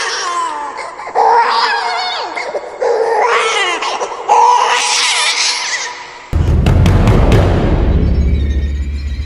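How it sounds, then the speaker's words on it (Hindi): A baby crying as a sound effect in a Hindi audio drama, loud and close, with sobbing, fretful cries that build over several seconds and end in a sharp burst against a heavy low rumble. "और ठीक उसी खामोशी के बीच एक बच्चा रो रहा था।"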